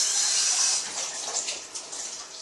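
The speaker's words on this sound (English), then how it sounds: "I've got to rinse the egg off my hand." Tap water runs steadily from a faucet as egg is rinsed off a hand, a close, continuous hissing splash that shifts slightly as the hand moves under the stream.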